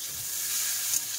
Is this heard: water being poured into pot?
no